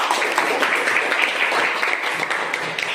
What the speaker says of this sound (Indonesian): Iya, kasih tepuk tangan dulu, nak.